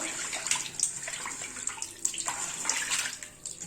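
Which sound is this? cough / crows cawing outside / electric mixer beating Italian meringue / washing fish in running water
washing fish in running water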